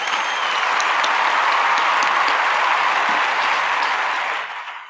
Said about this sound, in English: please give a big round of applause for all of the seniors